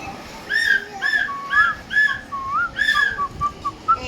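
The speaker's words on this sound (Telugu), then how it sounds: "అలా విజిల్ వేయకూడదు, నోట్తో వేయాలి" A person whistles with the mouth nearby, giving a quick series of short, bright, rising and falling notes with small gaps between them.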